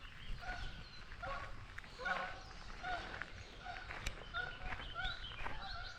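Canada geese honk repeatedly at a distance on a nature trail walk, a series of faint, irregular calls under soft outdoor ambience.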